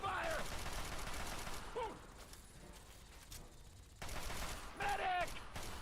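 Gunfire in the video game Fallout 3, with rapid bursts of shots in a fusillade, loud at the start and again near the end, a quieter stretch between, and voices shouting in the fight.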